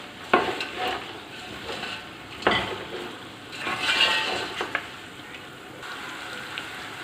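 Mutton sizzles and fries with ginger garlic paste in a pot as a spoon scrapes and stirs, the quiet crackle broken by a few sharp metallic knocks and a louder scraping swell.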